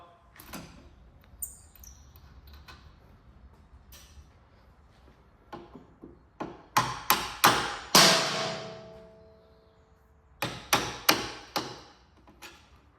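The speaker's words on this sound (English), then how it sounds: "So now we just need to undo our two nuts holding the shock to the hub." Rusted nuts holding the shock absorber to the hub on a Fiat 500 being undone in a workshop, heard as scattered metallic clicks and then bursts of rapid ratcheting or impact-tool rattles, close and without talk.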